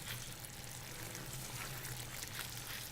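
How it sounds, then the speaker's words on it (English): Cream sauce poured from a pan into a pot of cooked pasta, a soft steady liquid rush and trickle running throughout, quiet and close with no talking. "I'm going to pour this sauce into the pot with the pasta"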